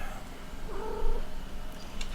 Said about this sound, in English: that was Buddha that you may have heard chirping there a second ago